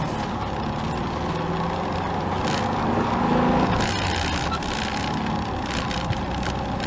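A car engine pulling away in first gear, a loud, steady low rumble heard from inside the car that swells slightly midway, with faint rustles on top and no talk.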